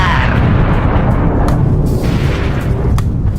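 A loud, sustained explosion effect stands in for an AMD Radeon RX 590 GME 8GB graphics card blowing up, a dense roaring blast that rumbles without a break for several seconds.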